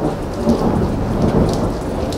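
Heavy rain pours steadily with a deep rumble of thunder rolling underneath, loud and close with no voices.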